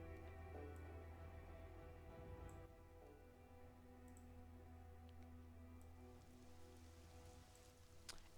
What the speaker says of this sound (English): It does begin to rain outside.